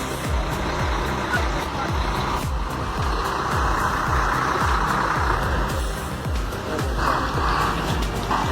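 A heavy logging truck labours through mud, its engine roaring continuously with rhythmic low thumps and clanks as the wheels churn and slip, loud and close throughout.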